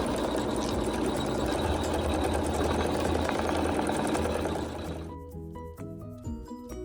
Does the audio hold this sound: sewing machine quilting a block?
yes